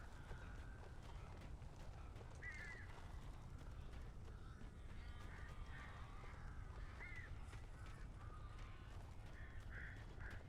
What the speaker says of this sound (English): That's a lot of bird.